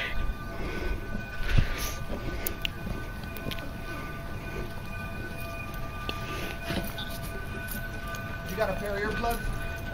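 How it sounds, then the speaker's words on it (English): A Cumbres and Toltec narrow-gauge train passes close by on the tracks with a steady rumble and rattling, while people talk nearby throughout. "The train's right here."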